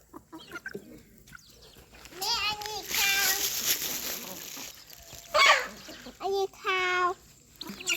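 Chickens clucking while being fed in the rain, with several short bursts of clucks and squawks close by between stretches of a child and an adult talking.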